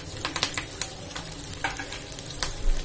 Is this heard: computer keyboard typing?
no